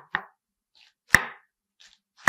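A knife slices through a halved cabbage in three sharp, separate cuts about a second apart, close and crisp with silence between strokes.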